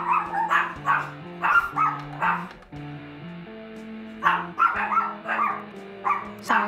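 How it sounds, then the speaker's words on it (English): Dogs bark in short, repeated bursts in the Sally Face video game, with two clusters of yapping separated by a pause and a steady, tonal game soundtrack running beneath. "Sorry about the dogs."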